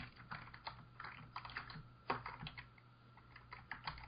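Rapid clattering on a computer keyboard, with irregular bursts of keystrokes and a couple of sharper hits, heard close but quietly over a low steady hum, with no voices.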